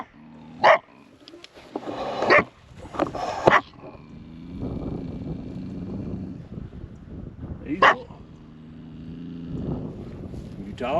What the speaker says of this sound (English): Well, that's a dark dog.